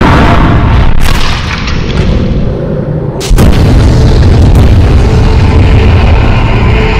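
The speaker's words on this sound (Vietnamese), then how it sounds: "Tao sẽ xả hết đống bom ở trên này xuống luôn." Cartoon bombs exploding in an animated Skibidi Toilet battle: loud, continuous booming blasts fill the whole stretch, with a brief dip and a sharp new burst partway through before the rumbling explosions carry on.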